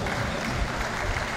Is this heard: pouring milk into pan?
no